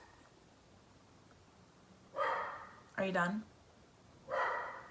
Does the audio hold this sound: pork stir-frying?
no